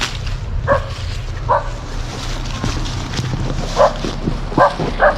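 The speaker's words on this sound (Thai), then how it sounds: "มีน้องหมาเห่าครับทุกคน" A dog barks five times in short, sharp, moderately distant bursts outdoors, over a steady low rumble of wind and engine-like background noise.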